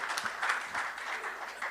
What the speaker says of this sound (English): as we clap for them and acknowledge that